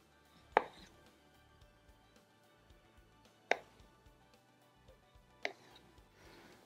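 Knife chopping a tomato into pieces on a cutting board, three sharp separate cuts spaced a few seconds apart, quiet room, no talking.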